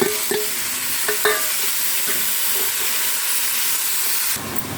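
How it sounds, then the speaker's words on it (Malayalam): Salt being stirred into an ash gourd milk curry, with a spoon scraping and clicking against the pot over a steady bubbling sizzle. No one speaks. "കറിക്ക് ആവശ്യമുള്ള ഓരോരുത്തരുടെ ആവശ്യത്തിനുള്ള ഉപ്പ് നന്നായിട്ട് ഇളക്കി യോജിപ്പിക്കാം"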